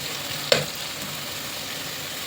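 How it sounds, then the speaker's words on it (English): Chopped onions sizzle steadily in hot oil in a pan for chole, a continuous frying hiss broken by a couple of sharp stirring clinks, close and fairly loud. "I'm adding the chopped onions. Let's saute them until they turn golden brown."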